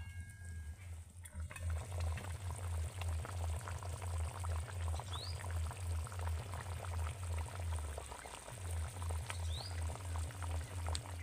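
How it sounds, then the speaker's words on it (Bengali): Prawn malai curry gravy bubbling at a steady simmer in a pan, close and continuous, with a low rumbling hum underneath and a brief pause near the end. "ঝোল ফুটে গেছে এবার আমি ভেজে রাখা চিংড়িগুলোকে দিয়ে দেব"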